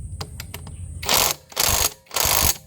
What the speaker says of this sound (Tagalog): sigpitan na natin gamit yung ating impact wrench